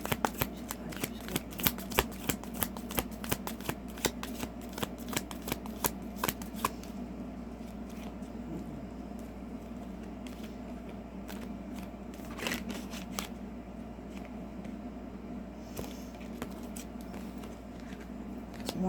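Tarot cards being shuffled for a pick-a-card reading, a rapid series of soft riffling flicks and slaps, close and fairly quiet, with the pace thinning out in the second half.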